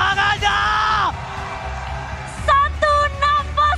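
A crowd at a Mobile Legends esports grand final whoops and yells in loud excited bursts, a drawn-out cry followed by several short shouted cheers.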